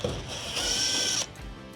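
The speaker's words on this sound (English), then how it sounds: "I have to remove all the 1/4" screws." A hand ratchet backing out a 1/4 inch corner screw on a Maytag dryer, producing a brief close mechanical whir and clicking that lasts under a second.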